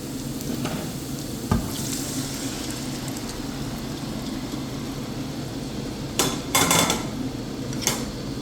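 Cooked chicken meat and its broth go into sautéed onions in a pan: a steady loud sizzle, a sharp knock early on, and a burst of utensil clatter and scraping near the end.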